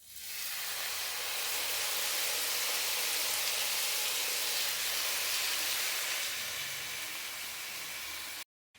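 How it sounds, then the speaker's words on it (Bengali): Chicken pieces frying in a pan on a gas stove, a loud steady sizzle and hiss that runs unbroken for about eight seconds before cutting off abruptly. "এই সেম প্রসেসে বাকি সবগুলো ফ্রাই করে নিচ্ছি।"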